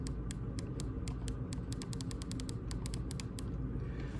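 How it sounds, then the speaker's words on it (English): Small plastic clicks from a Nintendo Switch Joy-Con shell under repair, a quick irregular run of faint, close ticks over a low background hum. "you'll be able to just barely push on it and hear a click"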